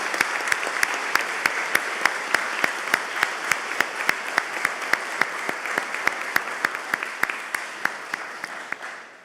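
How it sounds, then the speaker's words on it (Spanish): An audience at a Patagonian economic development council meeting in Argentina applauds after an agreement is signed: dense, sustained clapping at steady loudness with regular sharp claps standing out, fading slightly toward the end, no talking. "Vamos a rubricar este momento entonces con un fuerte aplauso."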